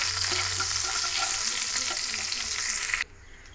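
Asafoetida stirred in hot oil for a soybean dal, a loud, dense sizzle with a soft low scraping of the stirring utensil, cutting off abruptly near the end to near silence; no talking.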